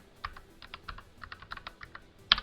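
Computer keyboard typed on at a brisk, uneven pace, a string of close, crisp key clicks ending in one sharper, louder strike like a hit on the enter key.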